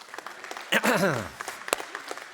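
An audience breaks into a short burst of clapping at a talk on marriage foundations, with a voice rising and falling over it before a faint, scattered room murmur returns.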